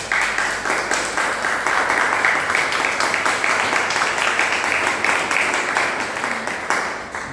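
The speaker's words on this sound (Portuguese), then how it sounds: "Palmas para o Senhor." A church congregation claps steadily in an echoing hall, a dense, rhythmic burst of applause that holds at a fairly loud level for several seconds.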